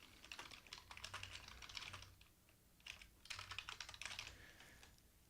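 Quiet bursts of keystrokes on a computer keyboard, quick clicky taps in two runs separated by a short pause, close by with no voice.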